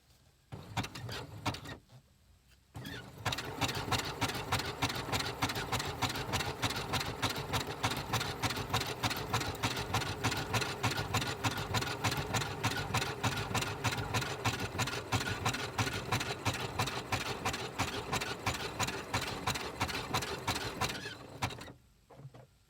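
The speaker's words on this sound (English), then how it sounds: "Back stitch a couple of times, and that's the front bit done." Sewing machine back stitching a felt needlebook, a steady rapid mechanical needle chatter running continuously for about eighteen seconds after a brief start, close and fairly loud with no talk.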